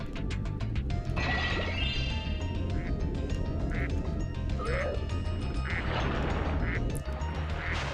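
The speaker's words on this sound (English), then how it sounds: "Well, look at that, a duck." Duck quacks repeat through a busy Spyro 2: Ripto's Rage game scene, loud against constant music and effects, with a crash or whack sound mixed in.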